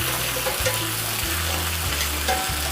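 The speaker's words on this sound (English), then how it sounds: "And I'm just going to kind of push these all to the edge. And we'll be adding the onions." Onions sizzle and fry in a pan alongside browned kielbasa sausage pushed to the edge, a steady close sizzle with occasional scraping stirs and no talk.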